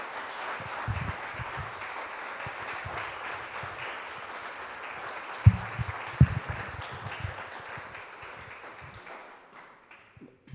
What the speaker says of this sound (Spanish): darles un fuerte aplauso